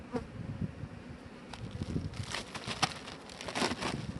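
Honeybees buzz loudly and densely at an opened hive as the inner insulation boards are pulled out, a close, continuous swarm drone with scattered crackles and knocks from handling the frames.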